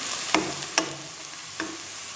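Bitter gourd and chana dal fry in oil in a pan, with a soft continuous sizzle and three distinct scraping strokes of a stirring spoon, close and clear with no voices.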